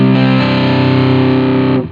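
Distorted electric guitar through a Two Notes Torpedo Captor X with the twin tracker switched off: a thick, loud sustained chord ringing for nearly two seconds before being cut short, with no voices.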